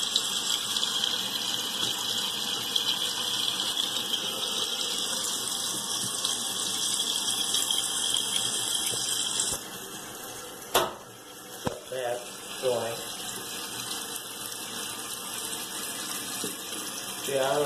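Water runs steadily from a tap, filling a basin with a continuous rushing hiss throughout, close and fairly loud, broken midway by a few brief knocks and a short squeak.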